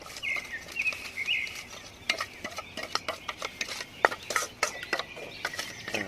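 Chicken pieces squished and mixed into marinade by hand at an outdoor picnic cook in a village garden, giving a run of close, wet squelching and slapping hits, with faint birdsong behind.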